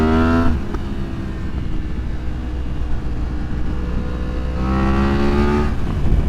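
A 2023 Yamaha MT-10 with a Leo Vince decat exhaust revs up in rising, harmonic engine sweeps at the start and again near the end, with a steady loud rumble in between and no talk.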